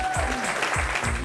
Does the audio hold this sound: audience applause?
yes